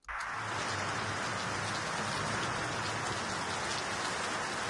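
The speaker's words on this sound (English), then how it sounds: "listen to how it sounds together with the other two rain samples" Dense, steady rain from several layered rain samples, forming a full hiss with pattering drops, constant and unbroken throughout.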